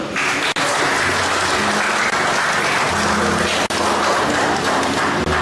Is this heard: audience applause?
yes